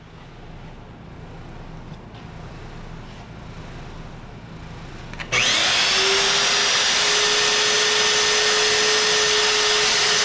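Quiet background hum, then a powerful magnetic drill clamped to a truck frame rail whirs up abruptly about halfway through and runs loud and steady to the end.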